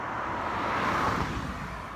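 A car rumbles past nearby, its broadband road noise swelling toward the middle and then easing off, with no voices.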